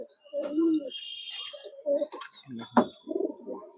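Pigeons coo nearby in a loft in soft, low murmurs, with a few chirps and a sharp rustle or click partway through.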